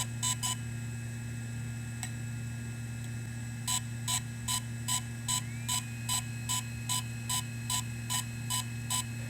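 A DJI Inspire 1 or Phantom 3 drone updating firmware gives a steady run of short, evenly spaced electronic beeps after two early chirps, over a constant low electrical hum.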